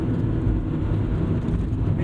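A 1997 Honda Civic Type R EK9, a light 2,300-pound 90s hatchback, driving along with a steady low engine drone and road rumble, heard from inside the car at an even, moderate level.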